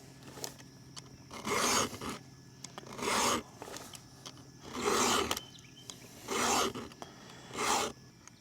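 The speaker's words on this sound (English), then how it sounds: "As you sharpen, it's important to turn the file a little bit to let shavings that are built up fall out" Hand file rasps across a chainsaw chain in five even, rhythmic strokes roughly one and a half seconds apart, close and moderately loud, with quiet pauses between each pass.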